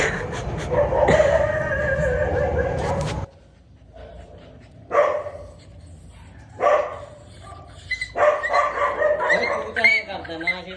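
A dog brought home to a house barks and yips in short bursts, the sounds close and loud, mixed in with people talking throughout.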